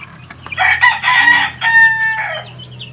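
Several Rhode Island roosters crowing in a pen, two or three loud overlapping calls close by, with no talk.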